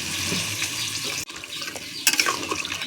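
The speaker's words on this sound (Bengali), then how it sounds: "তো এখন আমি একটু জল দিয়ে দেবো, বেশি দেবো না, অল্প করে দেবো" Water poured into a simmering curry of bottle gourd and koi fish, a steady splashing pour that breaks off briefly and resumes with a louder splash and sizzle.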